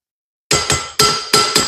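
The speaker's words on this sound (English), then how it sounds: "You have to give it a little love tap with a hammer to get it started." Hammer tapping a stuck car part loose during a turbo install on a budget Mustang, five sharp metallic clinks in quick, uneven succession, close and ringing.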